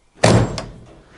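A door on a Chevrolet Impala SS lowrider project car shuts with a single solid, close thunk, followed by a brief rattle and a quick fade.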